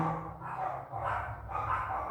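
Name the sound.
small dog barking outside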